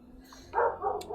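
A dog barks once at close range, a short, loud burst with a brief quieter follow-on, heard over a low steady background hum.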